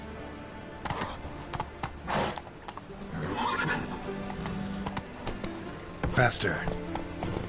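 Roach the horse in The Witcher 3 video game, hooves clip-clopping at speed with a loud whinny, while someone talks over the galloping.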